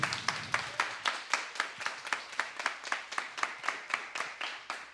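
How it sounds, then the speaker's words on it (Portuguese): Members of a youth council applaud a motion just approved in session, with a few hands clapping in a slow, even rhythm of distinct, evenly spaced claps that sound moderately close and somewhat quiet. "Vamos aplaudir, então, o requerimento da Yasmin, aprovado."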